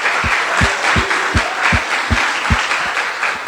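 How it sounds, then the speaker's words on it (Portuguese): A church congregation claps in slow, even unison, roughly two or three beats a second, with loud rhythmic handclaps over a bright crowd wash. "Será que Jesus merece uma salva de palmas pelo que ele vai fazer pela gente?"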